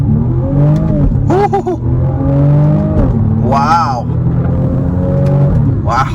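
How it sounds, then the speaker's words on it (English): A 2022 BMW M235i Gran Coupe accelerates hard from a standstill, its engine revving loudly and climbing through several shifts close up inside the cabin, while a person speaks over it. "Okay, off the line, on the gas,"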